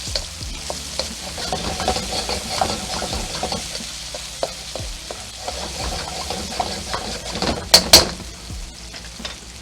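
Onions stir-fry on medium heat in a pan for garlic honey shrimp, a continuous sizzle with frequent utensil scrapes and stirring clatter, plus a couple of louder metallic knocks near the end.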